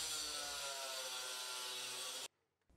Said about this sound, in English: I chose an angle grinder to use to cut the excess chain off of there that I don't need